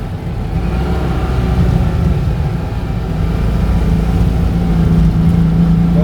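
A Citroen 2CV's engine revving as its wheels spin on snow, a steady, droning mechanical rumble heard fairly close throughout, with no talking.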